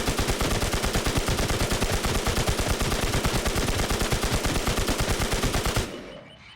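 Rapid sustained automatic fire from a P90 in the survival shooter Infestation, a loud, fast, evenly spaced stream of shots that stops abruptly near the end and leaves a fading tail.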